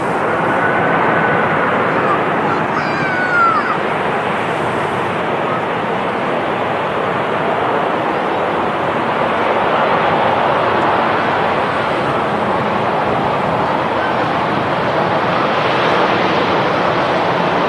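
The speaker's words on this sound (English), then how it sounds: "just touching down behind the TUI over there is a EasyJet. She's in from Faro, an A320." An EasyJet Airbus A320 in from Faro touches down at a windy Manchester Airport, a broad steady roar of engine and wind noise held at one level throughout, with no clear peaks.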